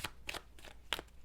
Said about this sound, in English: I'm going to start out this reading with some oracle cards, and I'm pulling on 3 different oracle decks